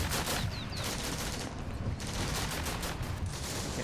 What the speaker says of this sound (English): Doesn't look like machine guns are finding targets